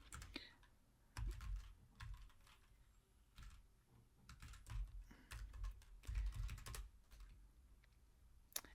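Keys clatter steadily on a computer keyboard as Linux package-install commands are entered, an irregular run of close, crisp clicks and thumps with short pauses between bursts, no voices.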